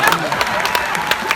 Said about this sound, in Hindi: बात आप तक पहुंचे तो आपकी तालियां उठनी चाहिए